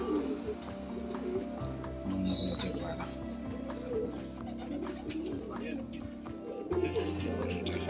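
Several pigeons, including an old male of a traditional breed, cooing low and repeatedly in a loft, with faint chirps around them and people talking close by over the birds.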